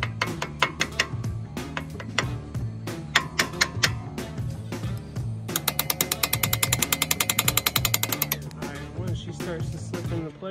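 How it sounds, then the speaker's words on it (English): Metal hammer taps on a brake part during a front brake job on a 2018 Maserati Ghibli, struck with the hammer's edge in a workshop: sharp irregular hits, then a fast rapid-fire burst of blows, then a few more. "I'm just holding it on the pin back here and beating it with the edge of my hammer."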